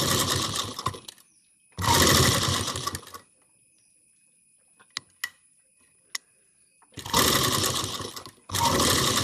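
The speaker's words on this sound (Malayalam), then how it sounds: "പല്ലിൻ്റെ സൈഡിലേക്ക് കൂടി നമുക്ക് സ്റ്റിച്ച് ചെയ്തെടുക്കാം" A sewing machine stitches along a zipper in two loud, rapid bursts, then falls silent with a few small clicks, then runs again in two more bursts.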